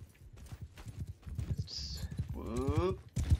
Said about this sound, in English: Horse coming your way.